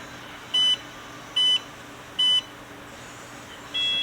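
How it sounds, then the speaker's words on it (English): A Promatic receiver gives three short, identical electronic beeps at an even pace just after being plugged in, with a steady hum underneath. "I'm going to plug this in real quick and just listen for the beeps"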